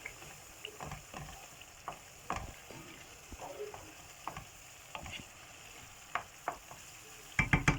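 Homemade french fries frying in a pan with olive oil, a faint steady sizzle under scattered close clicks and scrapes of a utensil, sharper clatter near the end.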